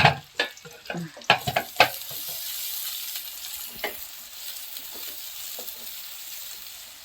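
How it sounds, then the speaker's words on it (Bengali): Chopped onions frying in oil in a kadai, stirred with several sharp scraping clatters at first, then a steady close sizzle continuing alone. "পেঁয়াজ কুচিগুলো ভেজে নিতে হবে"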